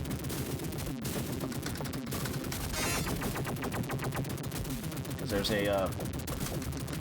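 Rapid arcade gunfire from the Silkworm coin-op shooter by Tecmo, rattling shots layered with game music and effects, with someone talking over it briefly.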